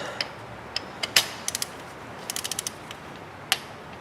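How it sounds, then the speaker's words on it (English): A torque wrench tightening a spark plug on a Toyota Highlander gives sharp ratcheting clicks, single ticks at first and then quick clusters, close and crisp against a quiet background. "then we're going to grab our torque wrench"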